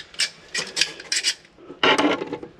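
A tight underfloor heating valve is unscrewed, short scraping rasps of metal threads turning in a series of quick bursts, close and fairly quiet, with a longer grinding turn at the end.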